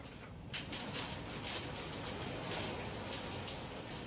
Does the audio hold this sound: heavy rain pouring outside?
yes